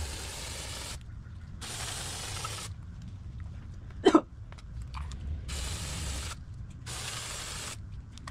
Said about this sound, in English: I'm going to spray those off with some electronic cleaner momentarily.